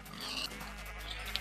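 A sheep in Minecraft bleats faintly, with a soft wavering cry over a steady low background hum.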